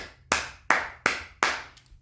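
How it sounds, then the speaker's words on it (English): Four crisp single hand claps ring out close by in a steady, even rhythm, each with a short decay and near silence in between. "you deserve a salute and a hand clap from all of us"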